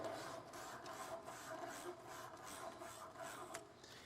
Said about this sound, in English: that's the way I kind of do the finish sanding